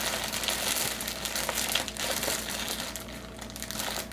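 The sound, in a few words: plastic bread bag being folded back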